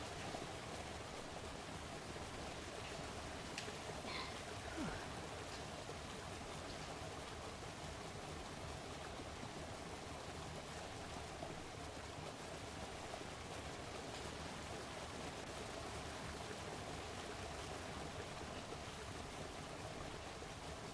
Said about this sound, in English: it's constantly raining